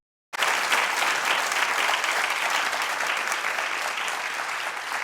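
A television talk-show studio audience breaks into applause after a brief silence, a dense, sustained clapping from many hands that stays loud and steady throughout.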